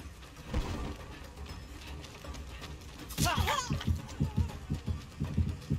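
The heartbeat terror radius from Dead by Daylight thumps in a steady rhythm of low pulses that grows stronger in the second half, mixed with game sounds and a sudden burst of noise midway.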